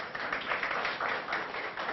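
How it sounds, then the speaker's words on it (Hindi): Students in a lecture hall break into a short round of applause, a dense, even patter of many hands clapping that holds steady for about two seconds with no talking. "एक बार ताली बजाओ"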